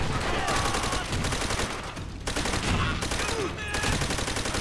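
Gunfire in the video game Call of Duty: World at War, with rapid bursts of automatic fire and a machine gun rattling almost nonstop, loud and close, with a short lull midway before the shooting resumes.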